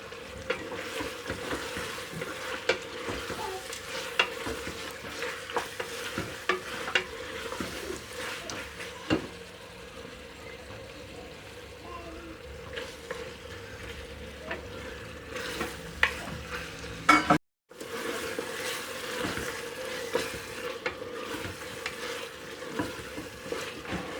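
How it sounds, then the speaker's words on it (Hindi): Mutton masala with onion and tomato fries in a pan with a steady low sizzle, broken by occasional utensil scrapes and taps and a brief gap of silence near the end. "प्याज और टमाटर भी बहुत भुन चुके हैं।"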